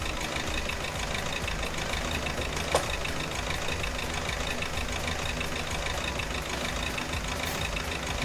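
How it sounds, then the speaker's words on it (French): An old small tractor from a farming video game runs steadily, its engine giving a constant loud rumbling drone with a faint knock throughout and one brief click near the middle, with no voices. "Il fait du bruit ton petit tracteur."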